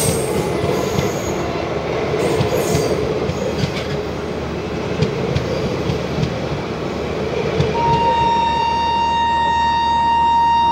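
Tripura Sundari Express rolling into Rohtak railway station, a steady rumble of railcars and wheels on track with a long high wheel squeal rising near the end, close and continuous.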